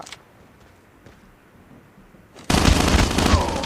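Gunfire from an MSMC submachine gun in Call of Duty Mobile erupts suddenly partway through, a loud dense burst of rapid shots following a quiet stretch of low background noise.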